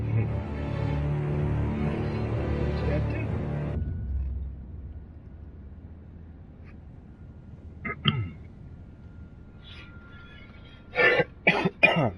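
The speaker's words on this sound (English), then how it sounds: "Got a little cold, so if I sound a little coughing or sneezing in here" A person with a cold lets out a few close coughs after background music fades out, ending in a cluster of quick, sharp coughs.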